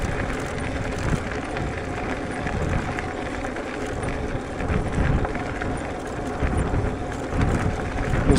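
Gusty wind buffets the microphone of a Wooken e-bike rider in bad weather, a continuous low roaring rumble that swells and eases in waves over a steady hiss, loud and close, with no talk.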